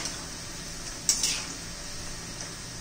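Cornflour-coated soybean pieces fry in hot oil with a soft, steady sizzle. A single brief clink of a utensil against the pan stands out near the middle, and no voices are heard.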